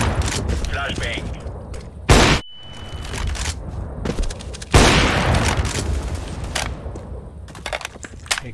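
Flashbang grenades in CS:GO go off with two loud bursts, each a sharp blast followed by a long ringing, crackling decay. Steady game noise continues underneath, and a voice talks over parts of it.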